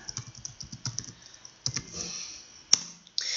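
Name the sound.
typing on a computer keyboard in Excel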